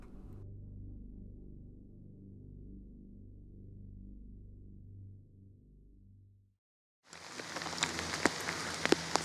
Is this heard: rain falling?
yes